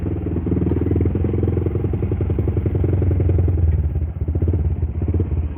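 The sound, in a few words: Yamaha Vixion motorcycle engine with racing exhaust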